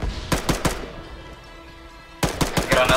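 Bursts of gunfire in the Arma 3 military game, a rapid volley of close shots, a pause with faint background, then another loud burst of rapid shots.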